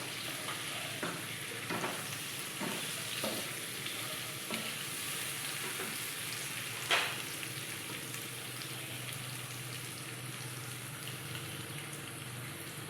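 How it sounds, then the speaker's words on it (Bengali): Tomato and garlic paste frying in a pan for chicken keema, a soft even sizzle with light rhythmic stirring taps and one sharper scrape, close and quiet, with no voices. "এবার আমি দিয়ে দেব টমেটোটা। আর দিয়ে দেব রসুন বাটা।"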